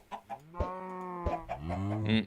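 Chickens clucking in the video game Minecraft, a few short repeated clucks and squawks heard close and clear, with no talking.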